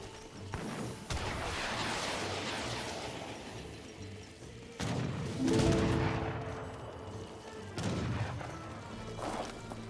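Musket volleys and artillery fire in an Age of Empires 3 battle, with culverins and rockets: a dense, continuous crackle of massed gunfire with several heavier booming bursts rising over the din.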